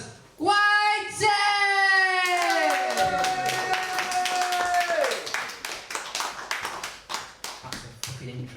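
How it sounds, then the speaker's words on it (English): Comedy club audience applauding and cheering for a comedian being introduced, a dense burst of clapping with a sustained tonal yell over it early on, then thinning into scattered claps that taper off. "give a raucous applause"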